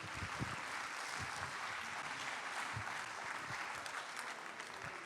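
An audience at a professional round-table event claps steadily and fairly loudly as panelists take the stage, with a few heavier nearby claps standing out from the continuous wash.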